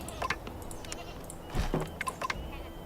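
Goats on a farm in the video game Anno 1404 bleat several times in short, quiet calls over a low background hum.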